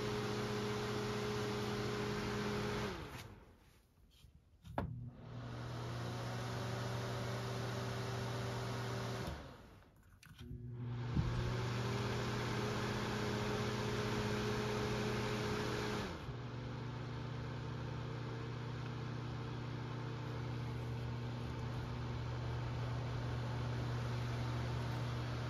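Steady space heater fan whir on high with a constant hum, briefly dipping twice as it is switched, then resuming at a similar pitch; no talking.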